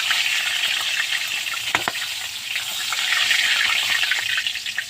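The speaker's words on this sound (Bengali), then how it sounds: "আমার মাছ ভাজা হয়ে গেছে" Pangas fish fries in hot oil with a loud, constant sizzle and crackle. One brief clink rings out early, then the hiss keeps going.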